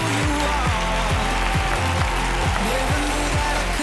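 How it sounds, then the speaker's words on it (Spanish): Audience applause at a Got Talent audition show: a dense, steady clapping from a large crowd that runs throughout, loud and close. "Un aplauso para Edurne, un aplauso para Risto"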